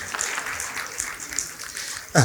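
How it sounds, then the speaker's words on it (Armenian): Applause from a stand-up comedy audience, a steady crackling patter of many hands clapping, closing with a brief voice. "Մի հատ ծափահարեք ոնցան"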